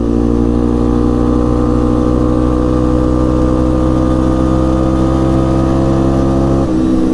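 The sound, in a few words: 1998 Yamaha Big Bear 350 ATV engine shifting through gears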